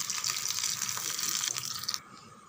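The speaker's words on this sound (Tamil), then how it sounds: "நார்மல் வாட்டர் நம்ம அரைச்சிருக்கிற சட்னி அப்படியே சேர்த்துருங்க" Plain water poured from a grinder jar into ground coconut-free chutney, a steady close splashing gush that stops abruptly near the end, with no talk.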